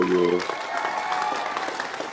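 A crowd at a political debate speech applauds steadily and loudly, a sustained clatter of many hands, with a voice speaking briefly over the start.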